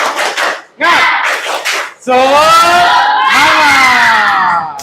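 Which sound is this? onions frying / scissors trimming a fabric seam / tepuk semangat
tepuk semangat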